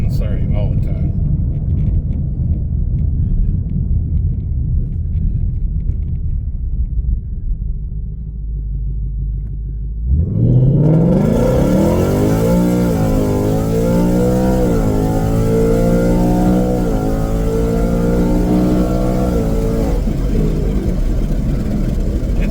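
A Ford Mustang S550 engine fitted with Stainless Power headers, in track mode, gives a loud, close rumbling drone that swells into a rising rev partway through and holds a deep, steady roar, with talk over it.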